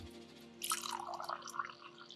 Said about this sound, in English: Take a listen. Pour it in the glass.